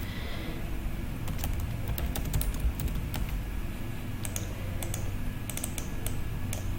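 Someone types on a computer keyboard, tapping in short irregular bursts with pauses between. The clicks are faint and sit over a constant low room hum.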